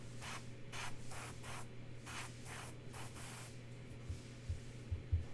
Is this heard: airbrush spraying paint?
yes